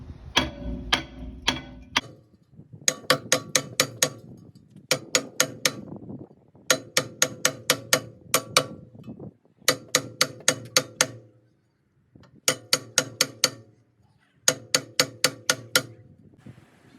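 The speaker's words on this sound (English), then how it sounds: "This engineer's hammer should do a better job because it's heavier and has a shorter handle." An engineer's hammer pounding a rusted rear brake rotor on a 2013 Dodge Grand Caravan: sharp metallic blows in rapid bursts of four to six, separated by short pauses, moderately quiet.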